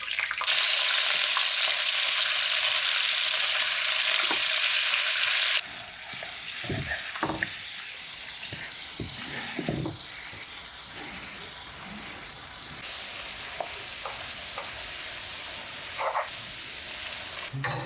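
Floured onion pieces sizzle in hot oil, a loud continuous hiss that drops to a softer steady crackle with scattered pops and spatters, close by and without talk.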